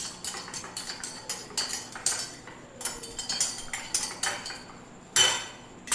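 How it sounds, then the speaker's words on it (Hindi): Kadha with lemon juice and turmeric being mixed in a pot, a spoon clinking and scraping against the metal in quick repeated taps, close and fairly loud, with no talking. "अब इसे अच्छी तरह से मिक्स कर देते हैं।"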